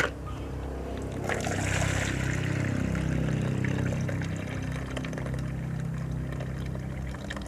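Water pours out in a sustained gushing splash, strongest early on and easing into a steady trickling flow.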